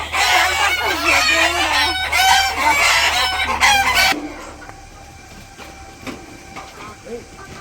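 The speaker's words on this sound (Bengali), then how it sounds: "মুরগিতে করতেছে কেমন, খিদা লাগছে," Hungry chickens cluck and a rooster calls at a village poultry farm, busy and close at first, then thinner and quieter with scattered clucks, while a person talks over the flock.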